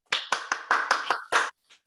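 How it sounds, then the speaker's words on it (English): A handful of online meeting participants clap for a speaker: seven short separate bursts of hand claps, loose and uneven like unmuted microphones, then one faint final clap. "If you can all unmute, please, as I've done, and give a big round of applause, please, to Joshua for his excellent contribution."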